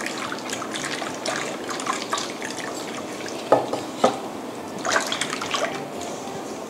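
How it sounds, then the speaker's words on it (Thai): Water is slowly poured into rice flour batter for Vietnamese-style steamed rice-skin dumplings, making a soft continuous trickle and splash with a few sharper drips, close by and with no talking. "แล้วก็ค่อยๆเติมน้ำลงไป"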